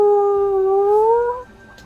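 A human voice imitates the call of a Brachiosaurus dinosaur with a single sustained, tonal, howl-like note that rises slightly, then fades out abruptly after about a second and a half.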